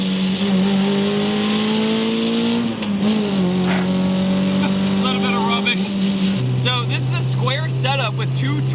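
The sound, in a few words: K24-swapped Mazda Miata engine climbing hill in 5th gear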